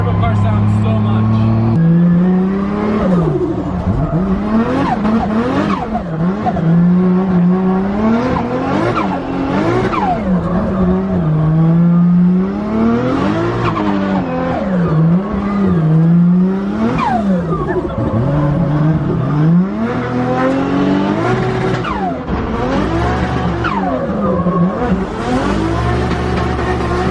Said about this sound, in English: It's crazy how intake length, and size can change how a turbo car sounds so much.